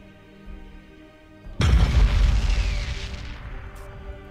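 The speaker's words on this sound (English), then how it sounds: "Triple barrel defensive macro turret. Ready to serve." In a video game, a triple barrel defensive macro turret fires a single heavy, booming blast that rumbles deep and decays over about two seconds after a quiet lead-in.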